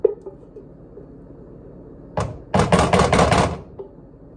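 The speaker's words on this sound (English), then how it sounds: "I'm just scraping the pan." A spoon scrapes a pan of homemade caramel, a few faint taps at first, then a dense burst of rapid, close scraping strokes lasting about a second and a half before it stops.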